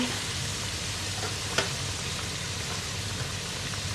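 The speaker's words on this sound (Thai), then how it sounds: "เราทอดไปค่ะทุกคน ทอดให้เหลืองกรอบสุกดี" Food deep-frying in hot oil gives a steady, even sizzle close up, with one brief sharper pop partway through and no talking.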